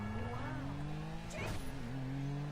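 A video game car drives with a steady sustained engine drone that rises into a rev, loud and continuous, with a voice talking over it.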